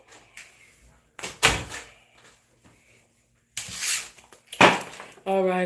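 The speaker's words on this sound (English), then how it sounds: "Close the door." A door being pushed shut in a home, with a couple of sliding rubs and a firm knock-like thud, then further handling clatter, ending on a steady electronic tone.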